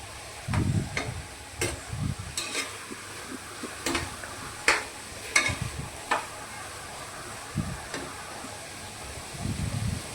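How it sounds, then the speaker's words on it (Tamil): Tomatoes softening in a pan for tomato rice: scattered stirring scrapes and clicks over a soft, steady sizzle, close by and without speech. "நல்லா வதங்கட்டும்."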